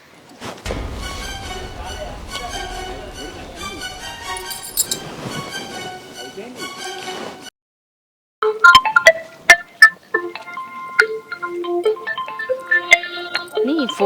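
A phone ringtone melody plays, pauses briefly, then rings again with chiming tones, continuing without being answered.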